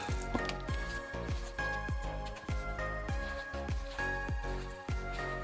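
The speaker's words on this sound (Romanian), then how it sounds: "frecăm bine toate bucățile să se acopere bine" Wet squishing and squelching repeat in a steady rhythm as hands rub marinade into slippery meat pieces for roast or kebab, close and continuous with no talking.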